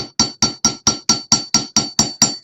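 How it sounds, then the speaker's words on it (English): Eleven evenly spaced, ringing hammer strikes from a heavy number 2 cross-peen hammer cross-hatching a metal texture at a jewelry bench, sharp and close with a bright metallic tone. "You can see that, or hear that Brenda's hammers are a little bit heavier in weight."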